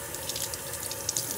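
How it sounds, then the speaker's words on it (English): Freshly harvested garden vegetables are rinsed under a running tap, a steady close hiss of flowing water with small splashes and patters as the produce moves in the stream, with no talk. "So just rinse them off."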